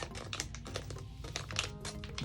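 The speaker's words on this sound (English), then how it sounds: "always put it back in the Ziploc, zip it up tight" A plastic Ziploc bag holding silicone-based cream makeup is pressed and zipped shut, giving a close, steady run of crinkling and clicking plastic for a couple of seconds.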